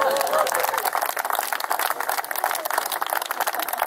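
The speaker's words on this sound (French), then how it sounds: "Eh bien, vous pouvez m'applaudir." An audience applauds in a room at a celebration, a dense, steady wash of many hands clapping that holds for the full few seconds, with no voices standing out.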